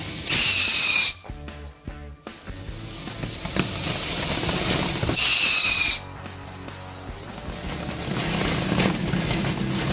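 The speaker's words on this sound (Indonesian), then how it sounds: "kita nyalain mercon air mancur blooming flower" Two loud bursts of whistling, hissing spray from a blooming-flower fountain firework, each lasting about a second, separated by quieter crackling and rumbling background.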